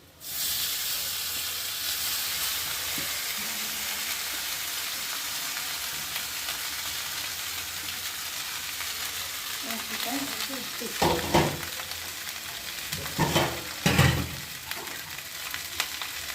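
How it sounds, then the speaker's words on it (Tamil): Groundnut rice being stirred and fried in a pan, a continuous close sizzle and hiss with scraping stirring strokes growing louder and more frequent toward the end. "இப்போ இந்த சாதத்தை அதில் போட்டு பரட்டணும்."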